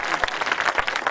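Audience applause during a devotional Navratri bhajan jagran, a dense, steady wash of many hands clapping at close range throughout, with a few sharper claps standing out.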